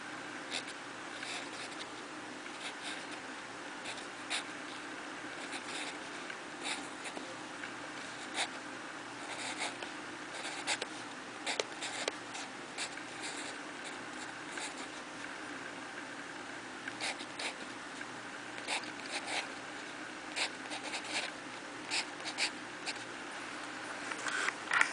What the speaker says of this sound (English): you're going to go back and you're going to write the numbers under each